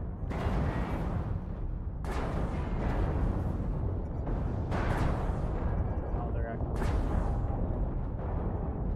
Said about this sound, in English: I'm gonna put artillery in.